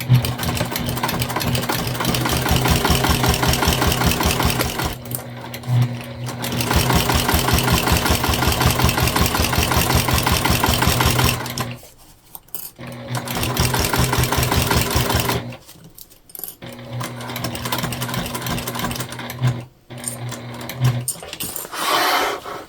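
A sewing machine stitches a tote bag seam in long, fast, steady runs, stopping briefly several times between bursts and then starting again, close up and clear.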